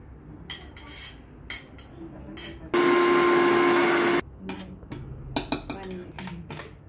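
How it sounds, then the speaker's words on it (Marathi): An electric mixer grinder briefly whirs at full power while grinding wood apple pulp for a sweet chutney, a loud steady motor hum lasting about a second and a half, framed by scattered clinks and kitchen handling. "हे मी मिक्सर मध्ये टाकते आणि बारीक करून घेते।"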